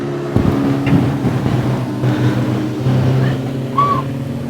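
Junior sedan race cars circle a dirt track at Carrick Speedway, a steady wash of distant engine drone with wind buffeting the microphone and no talk.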